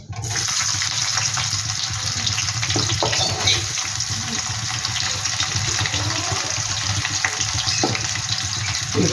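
Onions frying in a pan for bhuna khichuri give a steady, even sizzle that runs throughout, close and fairly loud, with faint clinks of utensils.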